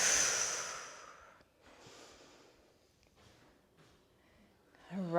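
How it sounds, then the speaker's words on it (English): A loud, sharp inhale opens a slow breathing pattern during a sun salutation yoga flow. Softer, drawn-out breaths follow, faint and close, with a brief vocal sound at the end. "Breathe here."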